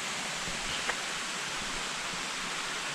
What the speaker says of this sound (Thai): ตอนนี้นะคะเราก็มาถึงน้ำตกชั้นที่4นะคะเป็นน้ำตกอกผีเสื้อนะคะ